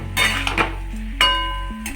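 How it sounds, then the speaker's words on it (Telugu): A spoon scrapes and clinks against a frying pan while eggplant pieces are stirred, with a few distinct metallic taps spaced over two seconds, close and fairly clear. "వంకాయలు చక్కగా వేసుకున్నాక మంచిగా ఇట్లా కలుపుకోవాలి"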